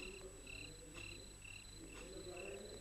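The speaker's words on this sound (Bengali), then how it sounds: "ঝিঝি পোকার একটা শব্দ" Crickets chirp at night in faint, regularly spaced bursts of high trilling, repeating about every half second over a quiet low background.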